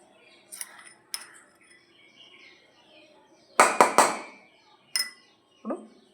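A spoon clinks against a pan while ghee is stirred into a hot oil mixture for sampangi puvvulu, with a few sharp metallic taps and scrapes in quick clusters, close and moderately loud, and no talk.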